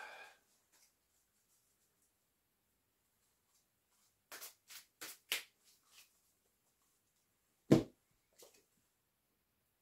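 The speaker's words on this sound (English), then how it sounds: "So we're gonna shuffle this up." Tarot cards being shuffled by hand: a few quick papery riffles in a short cluster, then one sharp slap of the deck, with long quiet stretches on either side.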